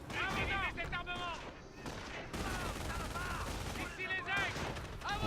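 Cannon blasts and rifle fire in a World War II strategy game battle, sharp overlapping bursts repeating through the stretch while someone speaks French over the combat.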